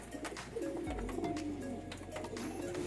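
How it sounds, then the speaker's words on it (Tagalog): Pigeons coo in a breeder's loft, their soft repeated throaty calls carrying steadily over a low background hum, with no talk over them. "Yan mga kalapatid."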